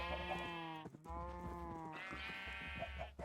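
Sheep bleating in a Minecraft modpack game, two long wavering bleats in succession, clear and close with a brief gap between them.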